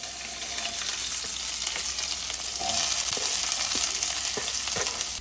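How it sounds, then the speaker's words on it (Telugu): Onions frying in hot oil in a steel kadai, a steady close sizzle with scattered stirring clicks and scrapes, swelling a little louder partway through as the pan crackles on. "ఆయిల్ వేడైపోయింది, ఉల్లిపాయలు వేసుకుందామా రండి."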